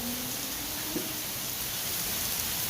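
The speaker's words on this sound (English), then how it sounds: "Listen to that rain." A steady drizzle of rain falling outdoors in Texas, a continuous soft hiss of droplets at even loudness with a faint brief tone partway through and no voices.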